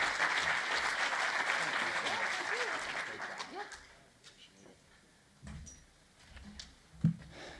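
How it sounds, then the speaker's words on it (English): Loud applause from a conference audience after a keynote speech on an economic forecast fills the first few seconds, then fades into scattered claps and room noise. "So join me, one more round of applause."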